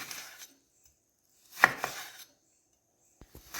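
A knife chops through mahali kilangu root on a board for homemade pickle, giving a few sharp, close cuts in separate bursts with silence between them.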